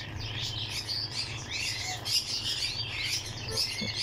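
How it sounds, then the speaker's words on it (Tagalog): Chirps and tweets from an African grey parrot, a bright busy twittering that carries on throughout over a steady low hum, fairly close and moderately loud. "African Grey Parrot, ito yung pinaka matalino sa lahat guys, yung marunong magsalita"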